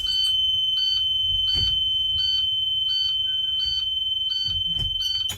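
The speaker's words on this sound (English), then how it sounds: "And the alarm would sound." A bus emergency window alarm sounds loud and shrill, continuously in steady repeated pulses, with a few brief clunks in the background.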